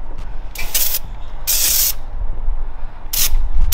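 Degreaser sprayed onto car engine parts around the injector and plug in bursts of sharp aerosol hiss, three main blasts over a steady low hum, loud and close.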